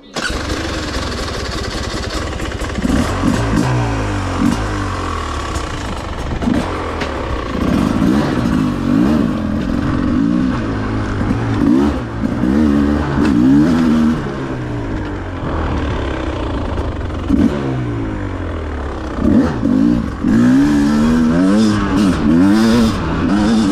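A 2024 Beta 300 two-stroke racing dirt bike engine revs hard while being ridden, rising and falling in loud, raspy bursts with rapid throttle changes throughout, close and continuous with no talk.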